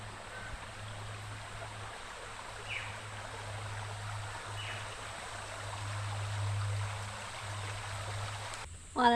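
A branch of the Mooloola River flows down into a gorge called Hellhole, giving a steady, soft broadband rush of running water with a low constant hum beneath it and a brief louder knock at the very end.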